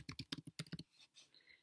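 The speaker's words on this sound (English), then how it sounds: "Now if you notice as I'm typing," Typing on a computer keyboard: a quick run of about eight close key clicks, then a few softer, scattered taps, with no voices.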